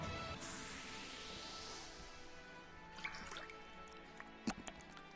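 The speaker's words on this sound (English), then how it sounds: "Why do you make a wet sound?" Wet dripping in the Granblue Fantasy video game: a soft watery wash fading out, followed by a few quiet, sparse drips and squishy splats.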